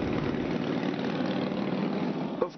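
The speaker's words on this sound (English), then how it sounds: "the roar of motorcycle engines ever present in downtown D.C." Motorcycle engines rumble through downtown Washington, D.C. during the Rolling Thunder ride for veterans and MIAs, a continuous loud, low, dense roar with no break, ending in a brief bump.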